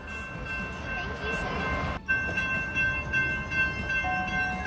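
A train passes a level crossing with a rumbling roll and steady tonal ringing or horn-like notes running throughout, loud and continuous, with a brief dip midway.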